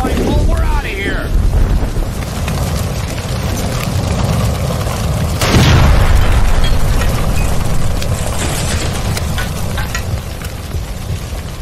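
A gas line explodes after being shot, a sudden burst partway through a loud, chaotic, dense scene of roaring noise, with people shouting over it.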